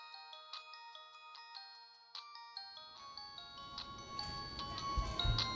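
A mobile phone ringtone plays a repeating bright electronic melody of short chiming notes, clear and steady, while some background rustle builds toward the end.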